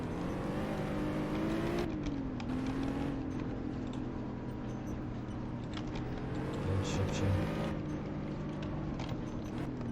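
Car driving in a gangster-themed video game, a continuous engine drone with gently rising and falling pitch and a few sharp cuts in the sound, fairly loud and steady throughout.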